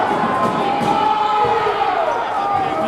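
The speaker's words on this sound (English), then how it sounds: "this crowd is ready to explode" A packed high school boys basketball gym crowd roars with sustained noise after a foul, a loud continuous rumble of voices and shouts filling the arena throughout.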